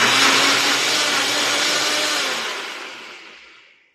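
A blender whirs loudly as it purees salsa with chopped onion, a single continuous motor roar heard alone and close, holding steady before winding down and fading out at the end.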